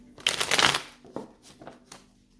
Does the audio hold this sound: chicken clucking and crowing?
no